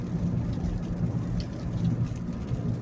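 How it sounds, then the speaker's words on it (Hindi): Steady, dense rainfall with a constant low rumble and hiss, no voices, holding an even loudness throughout. "तेज हो गई है बारिश अभी।"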